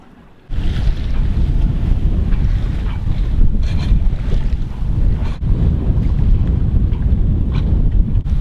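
A sailboat crosses from Dominica to the Saints Islands in strong Christmas trade winds, with heavy wind buffeting the microphone and rushing waves from start to finish after a brief quieter opening.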